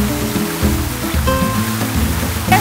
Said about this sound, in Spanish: Pues por eso cae así el agua, se crean como cascaditas, miren.